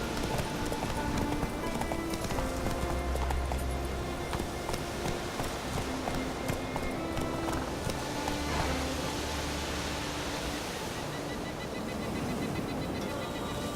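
The horse Roach's hooves clip-clop steadily in The Witcher 3, a continuous trotting rhythm under rain-like patter and ambient game sound, with no talk.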